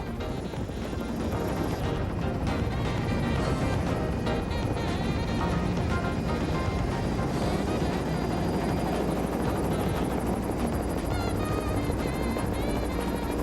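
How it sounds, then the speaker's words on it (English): A helicopter roars close by, flying low over water about 15 to 20 feet up, with a loud, continuous rotor thrum and engine whine, heavy and steady throughout, mixed with rushing wind. "That chopper's about 15, 20 feet off the water."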